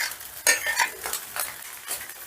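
A spoon scrapes and stirs through rice frying in a pan with fried cashews and raisins, producing irregular close scraping strokes over a soft sizzle.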